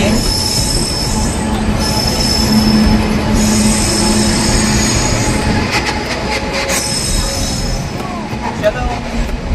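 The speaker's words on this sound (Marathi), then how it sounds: "ट्रेन आली आहे." A train pulls into a station on the route toward Ratnagiri in the Konkan region, its wheels squealing shrilly against the rails over a steady rumble and rattle of cars, close and loud, with faint voices nearby.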